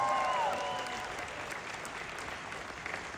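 A wedding sangeet crowd gives a round of applause for the couple, Simran and Sohan: dense, fairly soft clapping that starts full and slowly thins over a few seconds.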